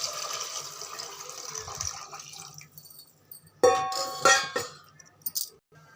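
Water is poured into a pot in a short splashing stream after a quieter stretch, followed by a few brief sloshes and drips.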